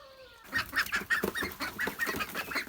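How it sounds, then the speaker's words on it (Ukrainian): Several farmyard ducks call close by in a run of rapid, nasal quacks, loud and overlapping after a brief quiet start. "чуєте, там кричать наші качечки"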